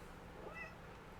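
A kitten gives a single faint, short meow against a quiet background hiss.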